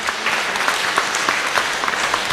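Congregation clapping together during a Kikuyu church service at PCEA Kamiti Parish, a dense, steady wash of many hands with scattered sharper claps, loud and sustained throughout with no voices.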